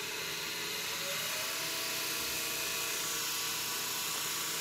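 An electric motor driven by a variable speed drive spins up, giving a steady high-pitched whine and broadband hum that holds loud and continuous throughout with no speech.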